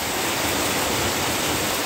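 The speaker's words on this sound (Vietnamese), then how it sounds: "Đây các bạn, nước chảy nè" Rainwater pours and splashes steadily during an evening downpour in District 8, Saigon, a dense broadband rush of flowing water and falling rain with no talk over it.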